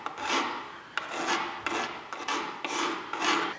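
A hand file rasps along the edge of a Victorian wooden door, about seven even back-and-forth strokes in a steady rhythm, close and clear with no talk.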